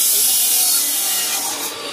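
A stainless steel drill bit grinds steadily through metal at close range, a continuous harsh, hissing bore that eases slightly near the end, with no talk over it.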